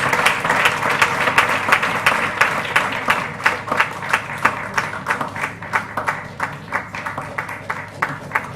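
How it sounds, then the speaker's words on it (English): An audience at a Toastmasters speech contest gives a round of applause for a speaker, with loud, rhythmic clapping that holds steady throughout. "Round of applause, please"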